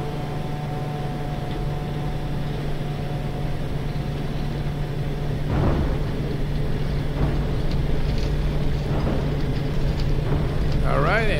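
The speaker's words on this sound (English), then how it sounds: "Listen to those engine sounds." Steady droning Quest Kodiak engine hum in X-Plane 11, constant and fairly loud, with a low tonal whine and some faint clunks near the end.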